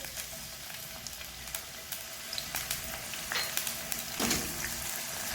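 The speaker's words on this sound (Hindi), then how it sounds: "सिर्फ इसको 1 मिनट के लिए फ्राई करेंगे" Garlic and ginger paste sizzles in hot oil in a frying pan, a steady close crackle with scattered louder pops and stirring scrapes, rising briefly near the end.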